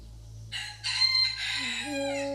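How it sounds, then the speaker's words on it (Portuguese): A rooster crows once, loud and close: a rising strained cock-a-doodle-doo that bends upward and holds a long drawn final note over quiet background. "E o galo chama novamente."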